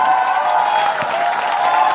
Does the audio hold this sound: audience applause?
yes